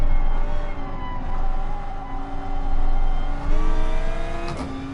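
A Gr.3 race car in Gran Turismo Sport on the Dragon Trail circuit, its engine howling loud and close with a sustained high whine that shifts pitch as it revs, heard alone without talk.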